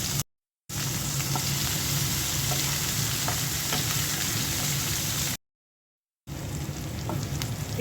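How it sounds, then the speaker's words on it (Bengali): Chopped onion, cumin seeds and green chili fry in hot oil, giving a steady close sizzle with faint crackles. The sound cuts out briefly twice, with no voices. "পেঁয়াজটা হালকা ভেজে নিলাম"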